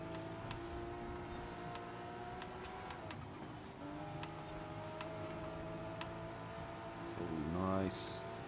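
Porsche race cars drive in Forza Horizon 5, with steady engine drone and tonal revving, faint ticking clicks and a brief whine near the end, while someone talks over it.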